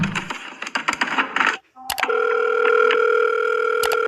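A few clicks and clatter of a handset being put down, then a steady electronic telephone tone that holds continuously to the end.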